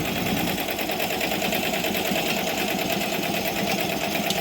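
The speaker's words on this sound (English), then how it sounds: "It's stitching out perfect, as you can see here." A Ricoma EM1010 embroidery machine stitching a letterman jacket gives a fast, steady mechanical chatter with an even rapid needle rhythm, close and continuous with no talking.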